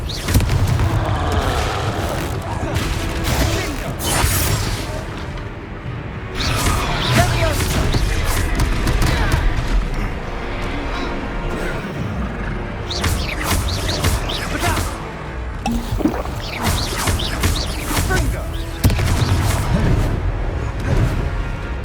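Repeated Confringo fire-spell blasts in the Hogwarts Legacy game: heavy booming bursts with crackling debris, coming in clusters over a dense, busy combat soundscape, with voices calling out spells between impacts.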